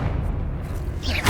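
Confringo blasting spell going off in Hogwarts Legacy: a short, dense low boom that holds steady and then swells near the end, with no voices over it.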